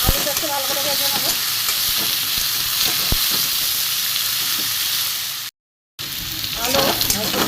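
Thin-sliced potatoes frying in a hot pan over a gas flame, a loud steady sizzle with occasional scraping stirs, cut by a brief silence before the frying resumes.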